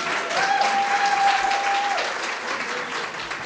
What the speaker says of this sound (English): give Tim Baird a round of applause